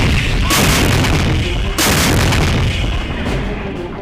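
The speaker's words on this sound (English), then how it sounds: "we're still bombarding them now" Heavy artillery pounds a large military base, deep booming blasts rolling into one another with a loud, continuous rumble and two sharper impacts standing out.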